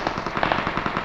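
Loud, rapid automatic gunfire in the mobile video game PUBG Mobile, a dense burst of close shots packed into about a second, with no talking.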